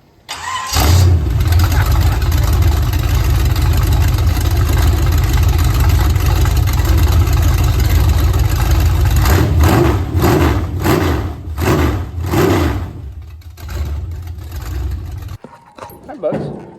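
A small-block LS V8 engine in a 1968 Chevelle SS rumbles loud and close, idling with a deep throaty drone, then revs in several sharp bursts before cutting off near the end.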